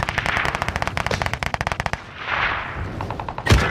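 Rapid automatic video-game gunfire rattles in a loud burst for about two seconds, then a swelling whoosh follows and one last sharp report closes it out, with no talking.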